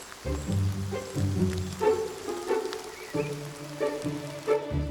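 Rain patters steadily on a surface, a soft continuous hiss beneath low rumbling and scattered thumps, with no voices.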